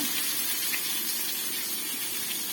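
Mustard seeds spluttering in hot oil in a kadai, heard up close as a dense, unbroken hiss that stays steady and fairly loud throughout, with no voices.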